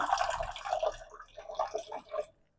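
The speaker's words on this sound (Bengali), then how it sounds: "এবার জল দিয়ে দিলাম, পরিমাণ মতো জল।" Water poured into a pan of Ruhi (rohu) fish gravy, a short splashing pour that fades in brief bursts, close and moderately loud.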